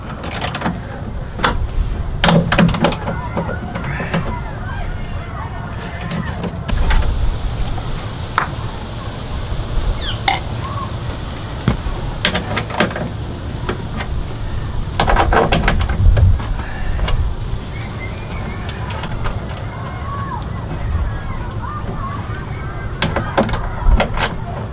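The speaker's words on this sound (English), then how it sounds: "got me a ratchet, so let's start taking these loose." A hand ratchet clicks in short bursts while loosening nuts inside the door of a 2004 Ford Mustang, close up, with scattered metallic taps and handling noise between runs.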